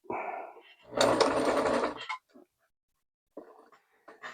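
A 1974 Kenmore sewing machine, freshly oiled, running a straight stitch in one loud close burst of about a second, followed by silence and a few faint clicks.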